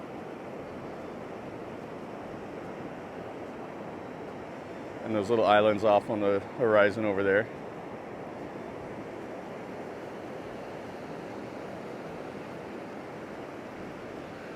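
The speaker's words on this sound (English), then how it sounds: "You can see the ocean crashing in." Steady roar of surf washing ashore on Klong Prao Beach, Koh Chang Island, in the morning, with breezy rumble throughout; someone speaks briefly in the middle over the waves.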